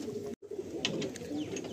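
Kaldom pigeons at a pigeon sale give soft, low cooing close by, a brief murmur cut by a short gap, over faint background noise.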